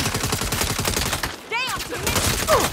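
An APC turret fires in the game Saints Row as a loud, rapid machine-gun stream of shots, breaking off briefly, then starting again, with a short whistling or electronic tone sounding in the pause.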